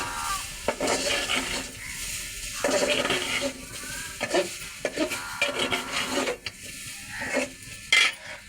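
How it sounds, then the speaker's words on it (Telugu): Vegetable pieces for a pickle slide into plenty of hot oil in a pan, setting off a loud, close, continuous sizzle with stirring scrapes and occasional utensil clinks against the metal, with no talking. "నూనె కాగాక ముక్కలు ఈ నూనెలో వేసేస్తున్నాను."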